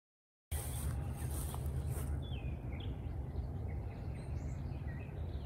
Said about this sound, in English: one reason I like getting up before the world gets up is I can hear the birds